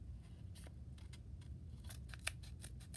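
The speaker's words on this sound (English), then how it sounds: "cutting along that line all the way off" Scissors snip through paper while a snowflake is being cut out, a series of short, crisp cuts spread irregularly across a few seconds, close and fairly quiet over a low background hum.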